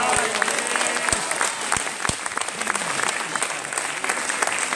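An audience at an Italian public talk on citizenship and welcoming applauds, steady clapping from a crowd filling the whole moment, with a voice faintly underneath.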